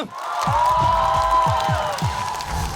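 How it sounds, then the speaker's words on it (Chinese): Audience applause greets a stand-up comedian walking onto a Chinese comedy competition stage, a steady broadband clapping wash that lasts the whole moment, mixed with upbeat band music and its thumping bass. "掌声有请张彩玲"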